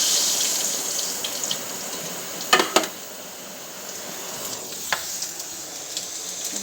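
Cumin and mustard seeds sizzle in hot oil with a steady bright hiss, broken by a few sharp crackles and pops.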